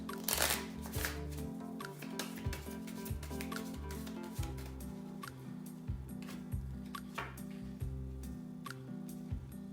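Tarot cards are shuffled by hand, giving a close, continuous run of soft riffling and flicking with sharp snaps, quiet and steady with no voice over it.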